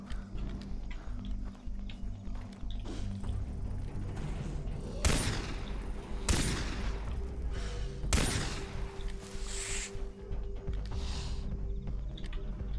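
Gunshots in the video game Far Cry 3: three or four sharp, loud cracks fired at uneven intervals over a steady rumbling ambient game background, with fainter reports trailing afterward.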